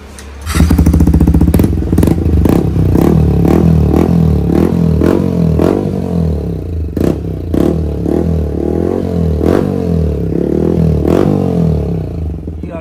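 A Yamaha MT-15 motorcycle with a loud aftermarket Akrapovic exhaust idles with a deep burble, then is blipped repeatedly in sharp rev bursts, close and loud, with no talking.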